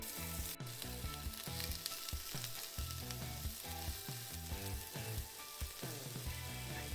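Garlic and onions fry quickly in a hot pan for tinolang manok, the garlic catching and scorching; a steady, close crackling sizzle runs throughout with bursts of stirring.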